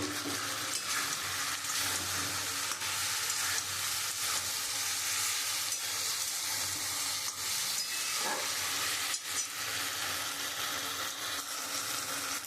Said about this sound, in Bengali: এবার আমি কাঁকরোল ভাজাটা দিয়ে দেবো।